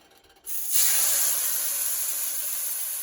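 A burger patty drops into a hot cast iron pan and bursts into a loud, steady sizzle that holds bright and even after a quiet moment of handling.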